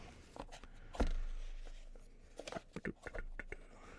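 A cardboard playing-card box is handled up close while a deck is put away. It makes one soft thump, then a quiet run of small taps, scrapes and papery rustles.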